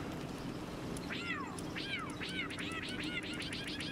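A cat creature in the Palworld video game lets out a run of five or six quick, rising-and-falling meows in close succession over a low game soundtrack.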